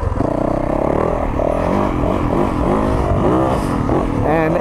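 Yamaha YZ450FX dirt bike engine revs hard on the throttle, a loud, close, continuous roar with rising and falling pitch sweeps from quick throttle blips, along with clattering mechanical noise.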